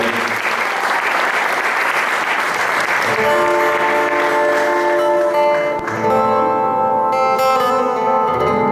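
A live audience applauds at a Sicilian dialect music show, sustained dense clapping that fills the room, later joined by sustained instrumental tones as the music begins beneath the fading applause.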